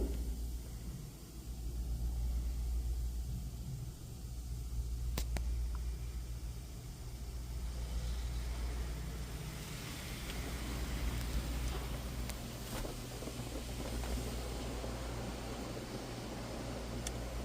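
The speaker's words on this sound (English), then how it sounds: "Pre-soak cleaning product is now being applied to your vehicle." Pre-soak cleaning product spraying onto a car inside a Washworld Profile APEX touchless car wash at Chevron Fullerton, a steady hissing wash of spray with a low machine rumble, heard from inside the vehicle.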